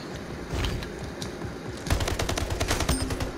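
Video game gunfire: scattered shots at first, then a sustained burst of rapid automatic fire in the second half, loud and close with a clattering, mechanical rhythm and no talking.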